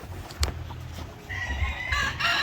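Black Australorp chickens clucking close by with a rooster's crow rising toward the end, amid soft rustling and a brief sharp knock, as the chickens are bathed.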